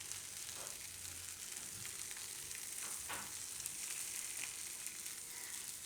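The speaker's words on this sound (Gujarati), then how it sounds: "1-2 મિનિટ માટે વચ્ચે વચ્ચે હલાવતા રહેવું." Raw banana and peanut masala fries in a pan on the stove while being stirred, a faint, continuous sizzle broken by a few gentle spoon scrapes, with no voices.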